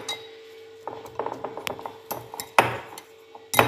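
A spoon works cumin, coriander and fenugreek powder into pakora batter in a bowl, making irregular scraping clicks and clatters that get denser toward the end, with two louder knocks.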